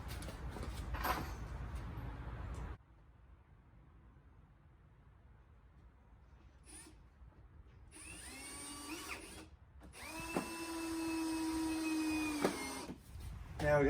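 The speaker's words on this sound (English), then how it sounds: "Take the clamp off and drop a few more screws in." Power drill driving screws into a pallet-wood Adirondack chair, with bursts of whirring motor separated by pauses and a sharp initial clatter, close and fairly loud.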